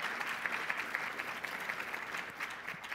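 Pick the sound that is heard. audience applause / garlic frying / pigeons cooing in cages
audience applause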